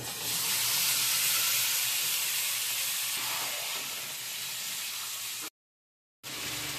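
Marinated chicken, coated with salt, raw oil, turmeric and lemon juice, hisses and sizzles loudly in hot spiced oil in a pan, a steady bright frying noise that cuts out briefly near the end.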